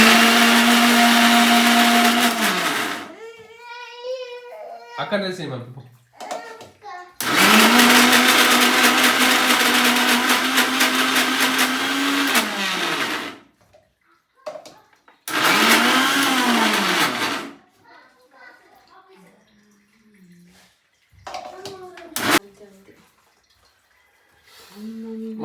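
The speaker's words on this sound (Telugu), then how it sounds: "ఇప్పుడు మిక్సీ పడుతున్నా పప్పులు" A kitchen mixer grinder whirs loudly as it grinds soaked urad dal for idli batter, running in three separate long bursts with pauses between them, while someone talks quietly in the gaps.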